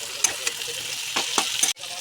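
Onion and tomato fry in oil in a pan, with a crackling sizzle and several quick scraping strokes of a spatula as they are stirred.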